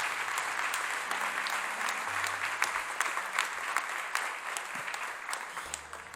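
A church congregation applauds steadily throughout, a dense, even patter of many hands filling the room with a few brief low tones underneath, fairly distant and soft.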